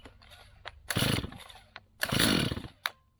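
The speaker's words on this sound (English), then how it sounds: "Now our saw started." A Stihl MS250 chainsaw is pulled and catches, giving two loud bursts of engine roar about a second long each, with a short sharp crack after them and quieter idle-like noise in between.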